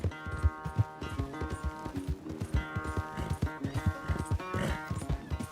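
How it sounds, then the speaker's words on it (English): A horse's hooves clip-clop steadily while being ridden in the video game Red Dead Redemption 2, the close, rhythmic thuds layered over a soft, sustained musical score. "riding the horse around"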